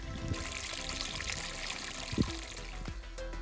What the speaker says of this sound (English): I think this spring puts out about 5 gallons a minute.